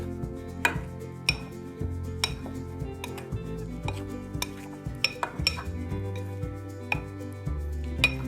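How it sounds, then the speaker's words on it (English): A small metal knife works liquid into pizza dough in a bowl, giving irregular sharp clinks and taps against the bowl with softer mixing scrapes between, close by and without talk. "I'm just slicing the liquid on the dough, and it's mixing"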